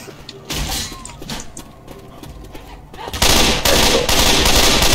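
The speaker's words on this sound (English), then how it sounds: "Take an incendiary ammo? Yeah, grab your fire bullets, people." Gunfire with incendiary fire bullets in the video game Dying Flame: rapid bursts of shots and sharp cracks, sparse at first and then a dense, loud volley near the end.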